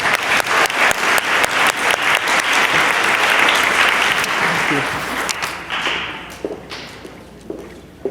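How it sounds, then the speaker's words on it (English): Loud, sustained clapping from a crowd, dense and steady at first, then thinning out toward the end. "A round of applause for Mr."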